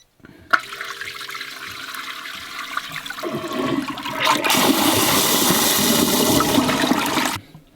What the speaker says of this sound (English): You can flush from the remote.